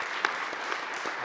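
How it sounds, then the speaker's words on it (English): Steady applause from a conference audience at a lunar science meeting, an even wash of many hands clapping at moderate, fairly distant level with a few slightly louder claps standing out. "give everybody here a real round of applause"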